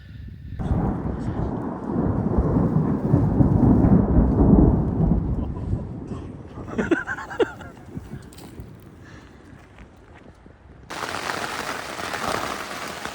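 Deep rolling thunder rumbles loudly for several seconds over a campsite in the Sierra, then fades into quieter crackles, followed by a steady hiss like rain.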